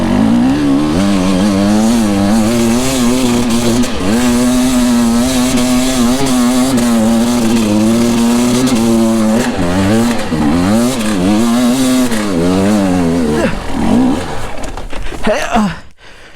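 A loud, close enduro motorcycle engine revs hard and keeps rising and falling in pitch as it climbs a steep hill, roaring almost without a break before dropping off abruptly at the end.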